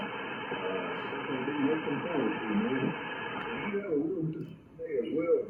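A ham radio voice comes through a receiver with DSP noise reduction off, over a constant hiss of static, band-limited and noisy, before the hiss abruptly drops away near the end.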